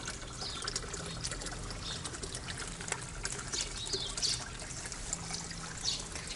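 Water from a homemade drum-style pond filter trickles steadily into a masonry koi and goldfish pond, a constant close splashing wash with no talk.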